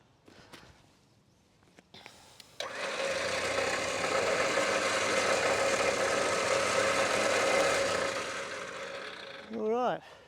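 Vehicle winch winding its rope back in during a double-line recovery, heard as a steady mechanical whir that starts abruptly after a few faint clicks, holds evenly for several seconds, then stops before a brief squeak.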